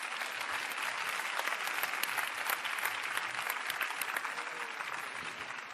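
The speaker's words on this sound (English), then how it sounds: "let's give them all a round of applause for being CEO champions" An audience at a business forum applauds CEO champions, dense sustained clapping from a sizable crowd at even loudness throughout, with no talk over it.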